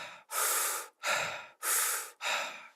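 Somatic circular belly breathing comes as four long, connected breaths, loud and close, each a breathy rushing inhale or exhale separated by short gaps with no pause at the top or bottom.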